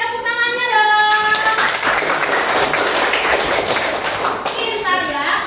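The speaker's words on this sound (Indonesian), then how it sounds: "Oke, tepuk tangannya dong." Students in a classroom clap together in a steady burst of applause, with voices and chatter over the clapping.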